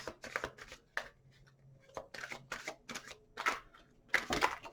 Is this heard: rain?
no